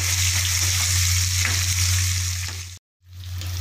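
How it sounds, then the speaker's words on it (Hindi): Cumin and two large chopped onions frying in two spoons of hot oil in a pan, a steady loud sizzle with a low hum under it, cut briefly by a short silent gap before resuming. "इसमें जीरा ऐड करेंगे, दो बड़े कटे हुए प्याज ऐड करेंगे।"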